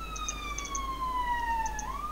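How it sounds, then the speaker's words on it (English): An ambulance siren wails faintly in the distance, its tone gliding slowly downward and then sweeping back up, with no talk over it. "It's an ambulance"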